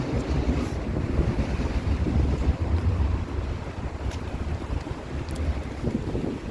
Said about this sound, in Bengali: প্রচণ্ড বেগে হাওয়া দিচ্ছে চোখে ধুলো বালি এসে পড়ছে